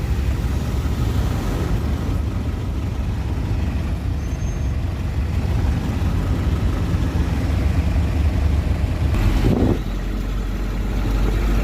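Road traffic across the street, a steady dense rumble of passing cars and trucks with a brief hiss like an air brake near the end, no voices.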